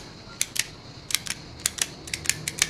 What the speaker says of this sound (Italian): un click meccanico, non plasticoso